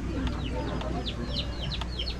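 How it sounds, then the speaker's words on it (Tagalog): Native chickens cluck in a farmyard, with a series of short, fairly faint clucks repeating over steady outdoor background noise. "mag-alaga din kayo ng mga native na manok?"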